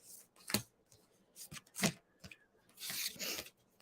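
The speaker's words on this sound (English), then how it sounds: "I'm not the best at shuffling cards sometimes." Playing cards are shuffled by hand in irregular riffling bursts and soft rubs, a few quick flutters followed by a longer riffle. The sound is close and fairly quiet, with no talk over it.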